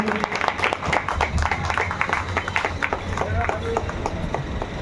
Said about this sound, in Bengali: জোরে হাততালি দিন